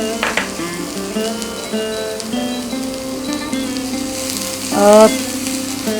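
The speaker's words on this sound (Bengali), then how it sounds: "পেঁয়াজটা রসুনটা একটু হালকা ভাজা হবে" Onion and garlic fry lightly in a pan, a steady close sizzle with occasional stirring, over faint tonal background sounds and no speech.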